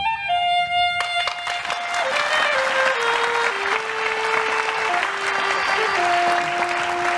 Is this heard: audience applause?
yes